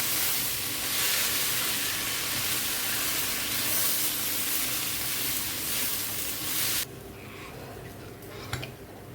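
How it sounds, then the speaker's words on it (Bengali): Rice frying with onions in a pan while making Katla fish-head biryani, a steady loud sizzle and hiss that suddenly drops to a quieter sizzle, ending with a faint clink. "একটু ভাজি ভাজি করে নেব চালটা, পেঁয়াজের সাথে একটু ভাজি করে নেব"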